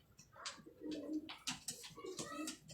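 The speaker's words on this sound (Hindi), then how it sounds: "कबूतर" Pigeons kept by a fancier coo softly and repeatedly at close range, with a few sharper wingbeat or chirp sounds between the low calls.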